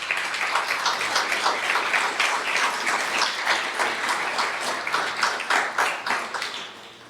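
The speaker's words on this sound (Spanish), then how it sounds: "¿Por qué no das un fuerte aplauso a Dios en esta mañana?" A church congregation at a Sunday morning service claps together in a sustained, even burst of applause that runs nearly the whole clip before tapering off at the end, with no voices over it.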